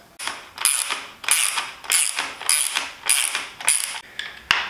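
A 5mm Allen key breaks thread-locked bolts loose on a Yamaha MT-07 front turn signal mount, giving seven sharp ratcheting creaks in a regular rhythm, close and fairly quiet.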